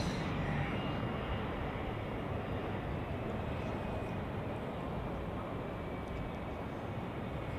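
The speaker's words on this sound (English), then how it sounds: "Let's take this Embraer 195E2 from Luxembourg first, landing on runway 28" An Embraer 195E2 comes in to land on runway 28 at Zurich Airport during a storm, a steady, broad jet roar that holds for the whole stretch at a moderate distance.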